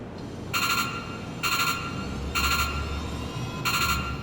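Loud electronic alarm in SOMA sounds four times in evenly spaced bursts of roughly half a second each, harsh and buzzy over a low background rumble.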